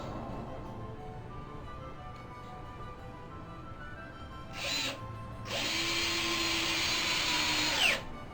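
A power drill bores a screw hole in an antique chair, with a short whine and then a longer steady high-pitched run over a low background hum.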